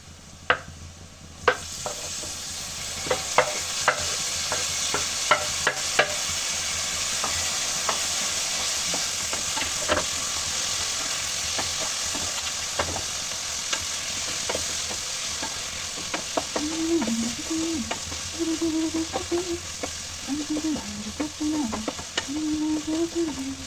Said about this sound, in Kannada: ಫೈನಲ್ ಆಗಿ ಟೊಮೊಟೊನ ಹಾಕ್ತಾ ಇದ್ದೀನಿ